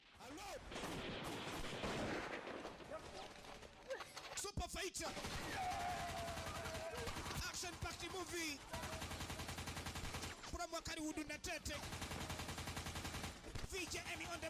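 Rapid bursts of film gunfire from exploding squib effects, loud and repeated across the stretch in fusillade-like volleys with brief gaps, some muffled crackle between shots.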